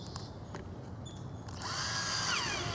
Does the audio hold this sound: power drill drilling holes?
yes